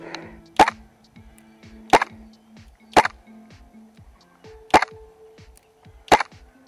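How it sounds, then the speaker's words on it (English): A Double Bell G17L airsoft pistol fires BBs in six sharp, evenly spaced cracks about a second apart, each followed by faint clicks and a low hum, with no talking. "Let's see if this little G17L can push a BB out that far to begin with."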